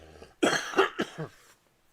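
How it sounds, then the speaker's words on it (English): A few close, rough coughs in quick succession, fairly quiet, followed by a short silence. "I have to cough."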